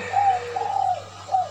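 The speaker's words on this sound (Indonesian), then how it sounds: "rame burung puter, dekukur, perkutut tuh pada manggung" Soft, rhythmic cooing from doves, including spotted doves and zebra doves (perkutut), three short low calls over a steady background hum.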